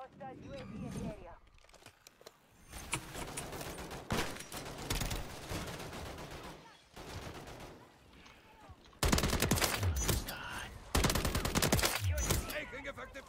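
Call of Duty game gunfire: dense automatic bursts and repeated shots pour out continuously, with louder volleys near the end, while voices talk over the battle.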